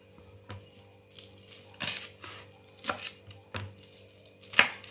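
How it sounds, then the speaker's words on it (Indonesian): Spring onions are chopped with a knife on a cutting board in a series of crisp, irregular knocks, about six distinct cuts over a quiet background with a faint steady hum. "Daun bawang juga kita potong-potong."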